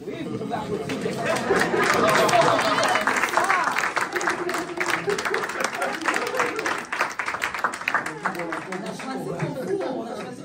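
Audience at a book fair tribute to an author at an Afro-Canadian book salon breaks into sustained applause, dense clapping mixed with crowd chatter that stays loud throughout and eases slightly toward the end.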